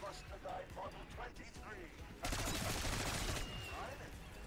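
Gunshots ring out in Black Ops 6 Zombies on the Liberty Falls map, with scattered shots and then a denser volley lasting about a second. Players talk over the gunfire throughout.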